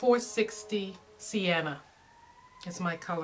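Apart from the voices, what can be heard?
siren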